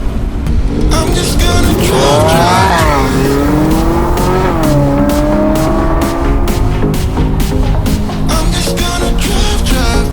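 A Tesla pulls away hard with loud tire squeal, the squeal rising and sliding in pitch over a steady roar. Sharp repeated tonal bursts punctuate the second half, close and continuous throughout.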